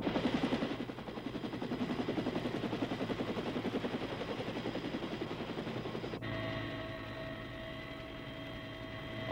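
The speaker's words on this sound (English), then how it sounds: "Purple smoke marks the landing zone as the medevac helicopter arrives a few minutes later." Medevac helicopter arriving at a landing zone in Vietnam, a loud steady rotor thump with a rushing engine roar that holds throughout, then the whine continues as a tonal hum after an abrupt cut.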